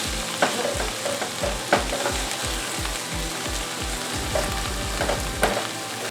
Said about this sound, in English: And then this is sauteed down enough. So I am going to add our Beyond sausages.